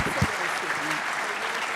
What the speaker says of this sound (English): really giving them a strong round of applause for tackling this tough issue